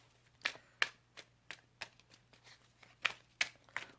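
Small square deck of tarot-style cards being shuffled by hand, giving sharp papery riffles and slaps in an uneven rhythm of about a dozen close, distinct bursts over a quiet background.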